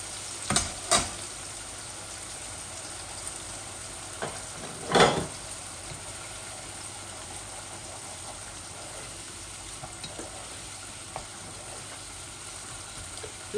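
Onions fry in a pan after fish has been cooked, a continuous soft sizzle with a few sharp spoon clinks near the start and a louder scraping stir around the middle, close and moderately quiet, no one speaking.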